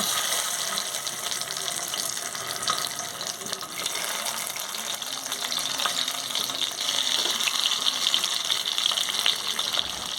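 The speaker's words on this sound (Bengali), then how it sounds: "এবার আমি সেদ্ধ ডিমগুলো ভেজে নেব।" Boiled eggs sizzle in hot mustard oil in a pan, a steady, dense hiss of close frying that carries on unbroken throughout with no voices.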